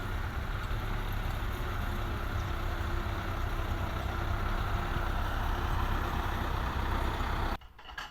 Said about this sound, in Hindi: दूसरा ट्रैक्टर भी आ चुका है।